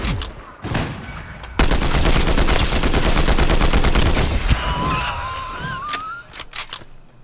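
A Combat Assault Rifle fires in Fortnite, a rapid, loud burst of automatic gunfire lasting a few seconds after a couple of isolated shots, followed by scattered quieter effects and a rising whistle-like tone.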